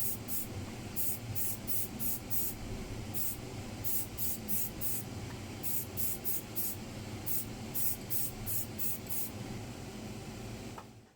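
Matte varnish sprayed over model tank wagons, a series of short hissing spray bursts in irregular clusters over a steady background hum, close and moderately faint.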